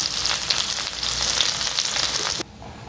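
Okra sautéing in a pan for a South Indian buttermilk curry gives a steady, close sizzle of frying that cuts off abruptly near the end, leaving a faint hiss.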